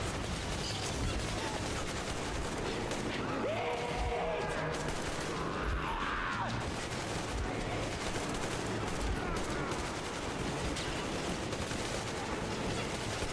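Gunfire in the video game Metro Exodus, set in the Caspian Desert, makes a dense, continuous fusillade of overlapping shots over a busy mix of game sound, with no clear gaps.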